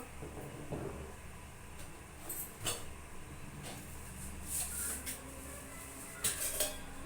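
Faint metallic clatters of a cooking pot being shifted and set down in a home kitchen while cooking pigeon-pea dal sambar, a few scattered knocks and scrapes over a quiet room hum.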